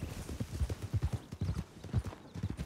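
Horse hooves clip-clopping in the video game Red Dead Redemption II, a quick, steady patter of several hoofbeats at close range with no one talking.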